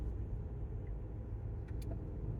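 A car rolls along a rural New Mexico road, a low, faint, steady rumble of tires and engine holding even throughout with no voices.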